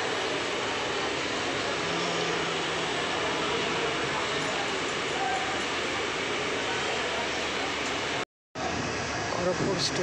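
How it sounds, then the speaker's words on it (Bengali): Aboard the Shalimar–Gorakhpur weekly superfast express running toward Varanasi, a steady, loud rumble of the moving train carries on, with one brief dropout near the end. "শালিমার স্টেশন থেকে ট্রেনটি আমাদের ছেড়ে দিল বেনারসের উদ্দেশ্যে।"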